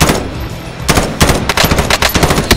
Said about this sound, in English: Oh, I'm getting shot now.